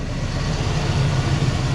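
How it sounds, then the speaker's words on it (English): A Toyota Celica RA40 engine idles just below 1000 RPM after sitting dormant, a steady low throbbing drone close by, continuous and fairly loud with no voices over it. "it's idling just below 1000 RPM now"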